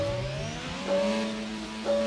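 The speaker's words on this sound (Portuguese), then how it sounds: "Todos os motores ligados, aquecidos, largada perfeita." F1 cars revving their engines at the race start in the F1 Mobile Racing game at the Jeddah Corniche circuit, rising whining engine tones layered together, moderately loud and without speech.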